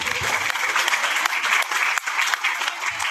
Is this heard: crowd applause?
yes